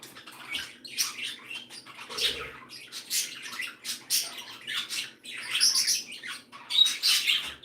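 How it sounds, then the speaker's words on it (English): Sierra parakeets in an indoor bird room chirp and tweet in rapid, overlapping bursts, close and fairly loud, a busy flock sound running throughout. "My Sierra parakeets sing in the middle of the night sometimes."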